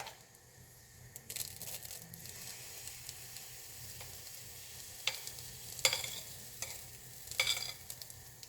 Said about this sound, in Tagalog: Napagpainit na tayo ng mantika. Ang sunod natin ang gagawin ngayon ilalagay na natin itong ating hot cake.